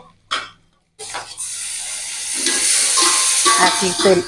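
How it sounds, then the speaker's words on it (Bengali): Prawns frying in hot oil for a prawn malai curry, a steady sizzle starting after a short pause and a brief clatter, with stirring clinks and spatters near the end. "এই মাছগুলো ওর মধ্যে ভেজে নেব"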